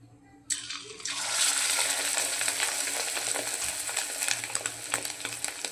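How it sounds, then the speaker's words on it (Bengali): Fish roe fritters dropped into hot oil, a sudden burst of loud sizzling after a quiet start that settles into continuous close crackling frying, no voices. "তেলটা গরম হয়ে গেছে আমার এবার বড়াগুলো আমি এক এক করে ছেড়ে দিচ্ছি"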